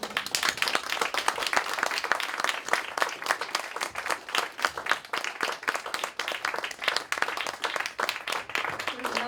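An audience applauding at the close of a poetry reading at a festival, dense steady clapping from many hands, close and sustained for about nine seconds.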